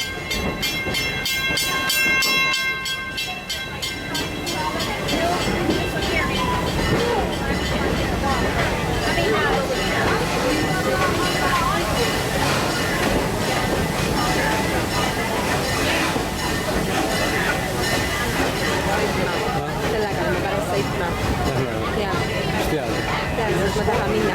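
Park train ride at Busch Gardens Tampa, a continuous rumble and clatter of railroad cars rolling along the track, with a tonal whistle-like sound early on and a narrating voice and crowd babble over the ride.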